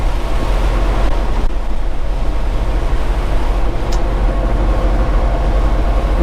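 Heavy diesel engine of a 2018 Peterbilt 389 truck with an 18-speed transmission pulling hard after a gear change, a loud, steady, close drone filling the cab without a break.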